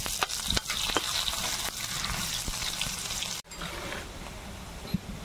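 Whole spices including dried red chilli and bay leaf crackle in hot oil, a steady close sizzle with scattered sharp pops, briefly cut off midway and then resuming more quietly.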